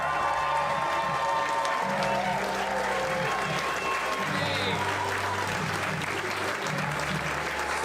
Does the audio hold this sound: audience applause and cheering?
yes